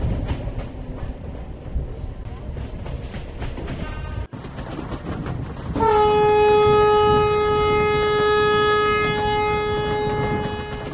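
In the Indian Train Sim 2023 mobile game, a train rumbles steadily past, then a loud sustained multi-tone horn blares for several seconds over the rolling noise, with no talk.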